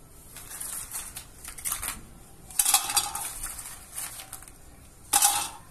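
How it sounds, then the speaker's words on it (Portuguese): Hard little pine nuts rattle and clatter into a metal pressure cooker in several quick pours, with brief pauses between the bursts. "Agora vamos colocar o nosso pinhão na panela de pressão."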